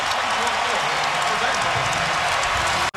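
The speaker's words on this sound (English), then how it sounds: "Just listen to this crowd now." A college basketball arena crowd during a Kentucky–Vanderbilt game roars in a dense, loud, continuous wash of cheering that cuts off abruptly at the end.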